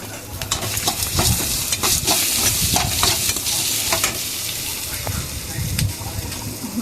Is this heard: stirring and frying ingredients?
yes